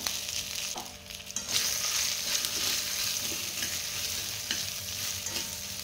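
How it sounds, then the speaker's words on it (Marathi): Eggplant and vegetables sautéing for Maharashtrian bharit, with a steady sizzle and intermittent stirring scrapes in the pan, moderately close and constant, without any voices. "व्यवस्थित परतवून घेऊया।"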